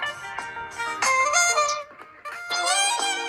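Music streamed from Spotify plays through the small built-in speaker of a Samsung Galaxy Watch5 Pro, thin and bass-free with bright tonal phrases and rhythmic pulses, fairly loud and close with no talking.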